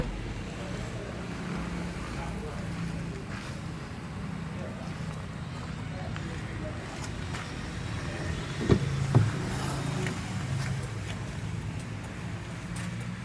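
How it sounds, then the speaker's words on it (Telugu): A petrol car's engine runs with a steady low rumble and road-wind noise throughout, with a couple of brief knocks near the end and talk faintly mixed in. "petrol vehicle"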